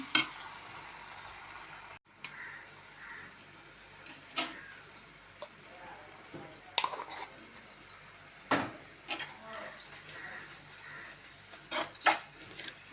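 Carrots for a carrot bhaji fry in a pan with a steady sizzle, broken by scraping stirs and occasional clinks of utensil on metal, close and fairly loud.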